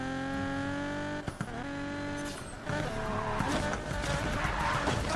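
In Need for Speed Payback, a car's engine drones steadily, then its tires squeal into a long skid after the handbrake is pulled, loud and close, with a rough scraping wash trailing off and little talk.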